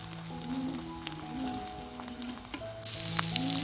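Small fresh fish fry with onion, garlic, green chili and coriander leaves, giving a close, steady sizzle with occasional stirring and popping.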